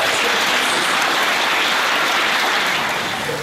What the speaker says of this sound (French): Applaudissez le Saint-Esprit.